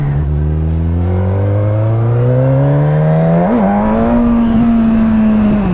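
A Suzuki GSX-S 1000 roadster, 145 hp, accelerates hard through the gears, its engine note climbing steadily in pitch with a brief blip midway, loud and close with wind rush underneath.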